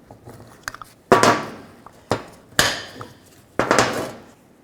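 Rear brake pads are pried and knocked free from the caliper bracket of a 2004-2008 Nissan Maxima, making a few sharp clacks and scraping metal knocks spaced about a second apart, close up.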